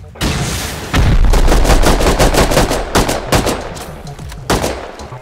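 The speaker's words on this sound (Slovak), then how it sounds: "Strieľaj ti tam rakety." Rapid loud gunfire bursts and heavy blasts during a raid in the video game Rust, with quick repeated shots continuing for a few seconds.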